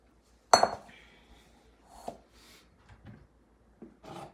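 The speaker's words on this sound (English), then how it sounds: "Now I'm going to take a bowl" A bowl to be greased with olive oil is picked up with one sharp clink, followed by a few soft knocks and rubbing sounds, close and quiet, with no talking.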